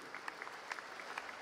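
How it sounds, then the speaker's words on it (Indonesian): A church congregation at a GKPI Pamen evening service in Medan applauds: faint, distant scattered clapping with a few sharper individual claps standing out over a low room background. "Boleh tepuk tangan untuk GKPI Pamen."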